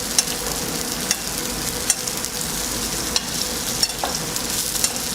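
Fish sizzles steadily in a very hot stainless steel pan as it is basted, a constant bright frying hiss broken by sharp spoon clinks and spattering pops, close up with no talking.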